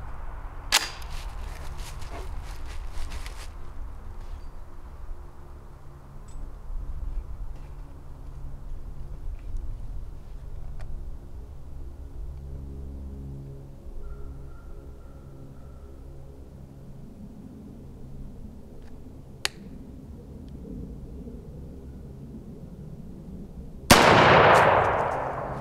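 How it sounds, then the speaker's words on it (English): A 20 gauge shotgun fires Winchester Longbeard XR number 6 shells through a Code Black Turkey choke, giving a few sharp reports with long gaps of quiet outdoor air between them. "we'll be shooting the Longbeard XR number 6 from Winchester"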